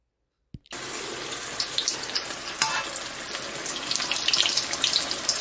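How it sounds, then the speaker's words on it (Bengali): Battered fish drops into hot oil and sets off a loud, continuous crackling sizzle with sharp spitting pops that grow busier, close up and with no talking. "মাখানোর পর আমি সরাসরি তেলে দিচ্ছি"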